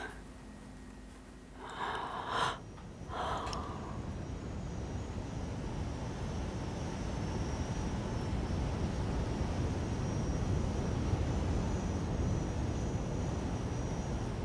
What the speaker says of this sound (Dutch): Totdat de vliegtuigen kwamen.